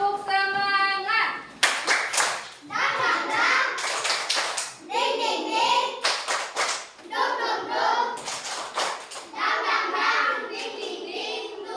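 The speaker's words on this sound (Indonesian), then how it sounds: "Tepuk semangat." Group of children doing a rhythmic spirit clap as a classroom ice-breaker, loud bursts of patterned hand claps in quick sequences, with a short tonal sound at the start and young voices chanting along.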